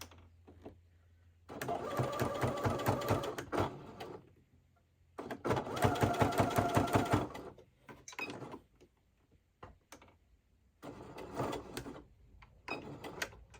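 A sewing machine stitches a fabric door hanger in three loud, steady runs of rapid needle chatter, separated by pauses filled with handling and fabric rustle.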